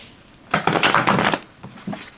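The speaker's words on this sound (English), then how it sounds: "I'll go ahead and shuffle version 1 just because." A deck of tarot cards on slick cardstock is riffled close to the mic in one loud burst of rapid flutter lasting about a second, followed by a couple of softer shuffling sounds.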